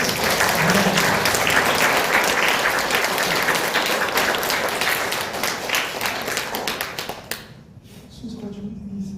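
A church congregation at a Korean church's 21st anniversary service gives sustained, full applause lasting about seven seconds before it stops abruptly, and a person then starts speaking.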